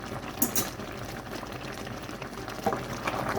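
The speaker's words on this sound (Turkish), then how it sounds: "Tahta kaşıkla karıştırıyorum. Şimdi bir 10-15 dakika kadar kaynatıp maya bırakıyorum yine." Orange jam with lemon juice bubbles in a pot while a wooden spoon stirs it. Close, soft boiling and liquid churning sounds continue throughout, with a couple of slightly louder stirring swishes.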